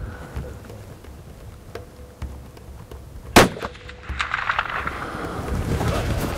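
Rifle gunshot on a plains game hunt in Masailand, Tanzania, one sharp loud crack midway through, preceded by quiet ambience and followed by rising wind noise.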